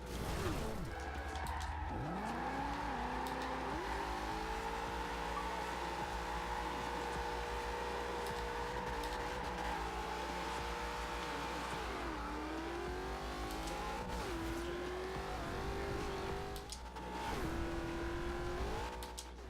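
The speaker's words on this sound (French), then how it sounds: "Une Ford Mustang 2015." A 2015 Ford Mustang roars through Forza Horizon 2, its engine revving and shifting through gears with tire squeals during a stunt run, sustained and loud with no one talking.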